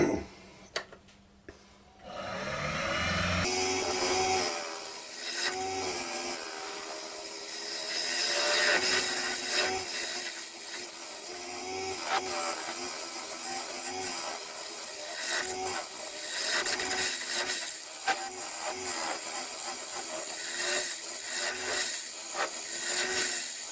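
A turning tool cuts into a sycamore bowl spinning on a wood lathe, giving a steady, loud scraping and shearing noise with rhythmic ridges that runs for most of the clip, with no talk.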